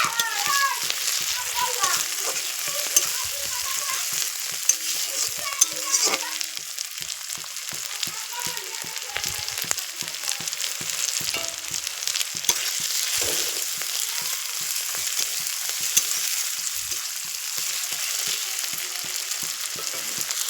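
Ginger, garlic and tomato masala frying and being stirred in a pan, with a steady close sizzle and occasional scraping under a busy household background of faint distant voices.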